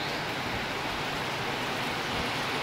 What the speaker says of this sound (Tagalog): Diyan ang bagsak ng ulan.